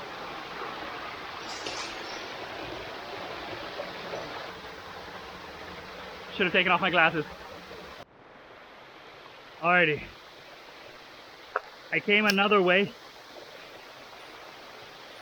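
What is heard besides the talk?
waterfall and stream flowing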